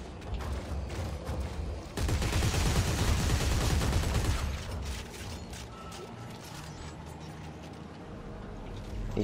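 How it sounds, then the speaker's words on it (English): Precision gun fired in Dead Space 3, a dense burst of mechanical, ratcheting shots growing loud around the second mark and continuing for a few seconds before easing into a steady background hum. "Oh my god, the precision gun."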